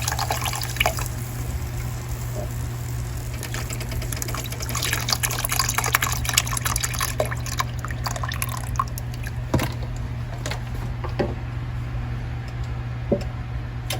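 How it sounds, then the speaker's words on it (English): Shrimp etouffee simmers in a pot with soft, continuous bubbling and small popping drips under a steady low kitchen hum, with no talk. "Before we let it simmer some more before we add our"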